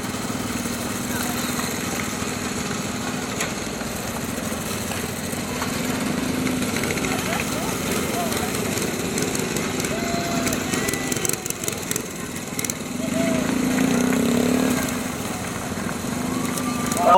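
Mini bikes from a mini bike association ride past in a fall foliage festival parade, a continuous buzzing of small engines with revving swells, while an announcer talks over the PA.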